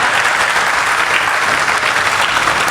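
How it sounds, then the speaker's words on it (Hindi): An audience at a Hindi comedy poetry show claps loudly and steadily, a dense, even roar of applause with no voices above it. "और तालियां इस बात पर बजाएं"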